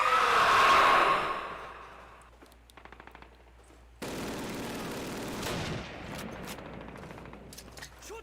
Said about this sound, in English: Remember that machine gun activates quick.